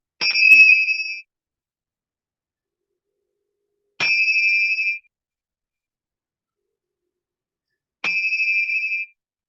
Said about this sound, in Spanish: Emilce, la campana, con esto terminamos.